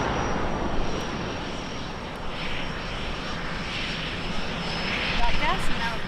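A steady, broad engine roar of an airplane passing overhead, swelling slightly toward the end.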